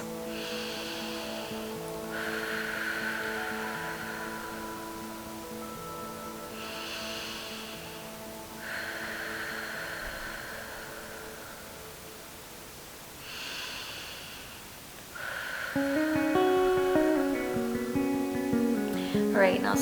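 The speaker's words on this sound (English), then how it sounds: "Remember to lengthen on your exhales." Slow, drawn-out breaths during a relaxing full-body stretch come in about three long airy exhales spaced several seconds apart. They are soft and close over a gentle background of sustained music.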